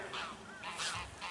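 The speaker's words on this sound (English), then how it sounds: "And the geese are down there." Farm geese honk several times in a row, faint and somewhat distant, with short bursts of nasal calls and no talking.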